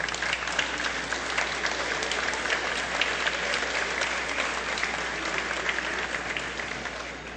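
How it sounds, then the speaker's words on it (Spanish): Applause from the members in a congress plenary session chamber: a broad, sustained wash of clapping from many hands, even and fairly loud, filling the hall without a break. "Un aplauso para ellos."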